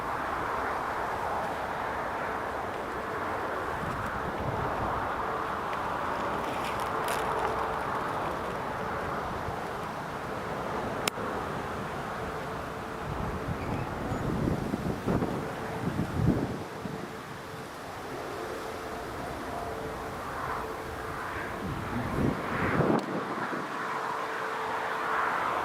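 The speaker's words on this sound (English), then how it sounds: "Just wind's picking up a little bit actually." Steady wind roars across the microphone outdoors at Newcastle Airport, a constant broadband rush lasting throughout with slight gusting swells and faint distant traffic or engine hum beneath, no voices.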